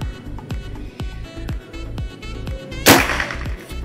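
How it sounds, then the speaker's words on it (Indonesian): A PCP hunting air rifle fires a single sharp, loud shot, preceded by rhythmic mechanical clicks and thumps as the gun is readied. "Tembakan ke 5 terakhir ya"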